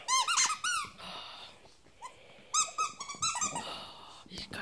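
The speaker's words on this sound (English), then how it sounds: "It squeaks." A squeaky toy squeaks in repeated bursts close by as a puppy plays with it, with short rubbery squeals clustered together and a person talking softly between them.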